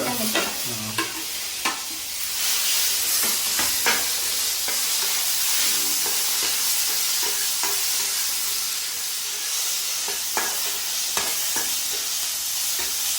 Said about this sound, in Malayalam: നമുക്ക് തക്കാളി ഇടാം തക്കാളി ഇട്ട് കൊടുക്കാം തക്കാളി കറിവേപ്പില